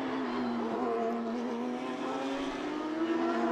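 Race cars including a Porsche Cayman and a Mercedes AMG competing in a Belcar Series round, a sustained distant engine drone with steady harmonic tones, no voices.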